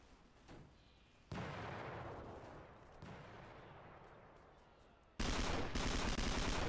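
Bursts of rapid gunfire ring out in the Brass Brigade video game, first a sustained volley and then a louder, denser burst of shots near the end.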